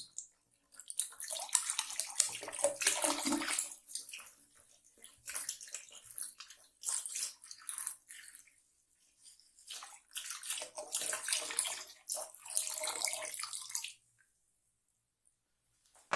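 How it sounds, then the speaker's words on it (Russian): 9% table vinegar is poured into and over a rusty kazan pot in two long, splashing gushes, separated by a brief pause and ending in quiet drips, with no voices. "Вливаю так, чтобы 1 литр вылился вовнутрь казанка, а второй снаружи."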